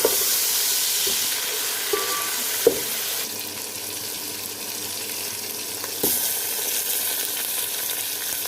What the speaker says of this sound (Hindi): अच्छी तरह से भुनाई कर लेंगे।